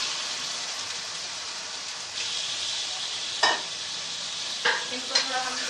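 Chicken fries in oil in a pan over a medium flame for spinach chicken, giving a soft, even sizzle with a few sharp utensil clicks near the end, close and without talking.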